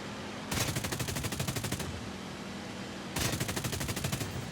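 SAAB 21 fighter's cannons firing in War Thunder, two loud sustained bursts of rapid rhythmic rounds separated by a short pause, with steady engine drone underneath.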